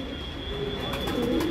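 Pigeons coo softly nearby in a breeding loft with a paired flying pigeon from Pakistan, a low brief coo set against a faint steady electronic hum.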